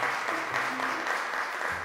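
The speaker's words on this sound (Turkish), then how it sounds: "Alkışlıyoruz sarı masayı." Applause for the yellow table team on a school quiz show, a short burst of steady clapping from a modest group of people, close and evenly sustained.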